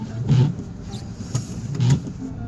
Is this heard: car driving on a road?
yes